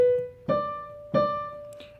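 Piano playing plain, separated quarter notes: three detached strikes of the same pitch at a steady pace, each note decaying before the next, played alone and fairly soft.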